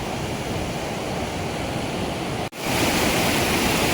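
Clear stream water in the Dooars countryside rushes and splashes steadily in a dense, continuous wash, close and loud, with a brief dip before the flow surges back slightly louder.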